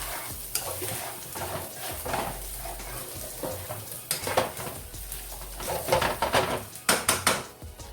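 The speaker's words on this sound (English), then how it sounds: "So at this point, it's kind of frying." Ground beef sizzles in a pan under repeated scraping and stirring, with occasional clanks of a utensil against the pan; no talking.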